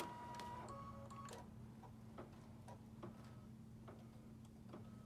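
An embroidery machine runs a stitch-regulated quilting pass, a soft steady hum under a quiet irregular patter of needle ticks, faint and close.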